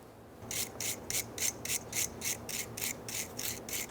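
Brake caliper bracket end being scrubbed during a rear brake job on a 2004–2012 Chevrolet Colorado, a brisk run of about a dozen even, rhythmic rasping strokes close up.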